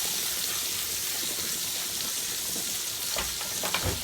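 Shrimp fry in a pan with a continuous close sizzle, and a few louder crackles and spatters come near the end. No one speaks.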